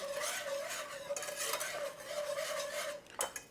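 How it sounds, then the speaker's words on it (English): Chicken wing sauce simmering in a pot is whisked and stirred, giving a steady, close scraping and swishing with a faint sustained tone underneath and a brief clatter near the end; no one speaks. "use the whisk to break up any clumps, and then get in there with your spatula to make sure it's cooking evenly"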